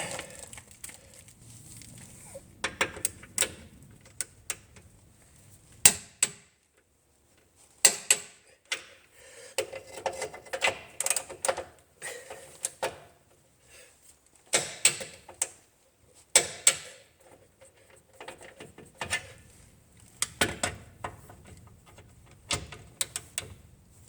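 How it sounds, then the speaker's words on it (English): A hand wrench clicks and ratchets in irregular bursts while bolts are tightened on the driver-side front end of a 2004–2007 Toyota Highlander FWD during a rebuild, with metallic ticks and short pauses between passes. "Torque these down."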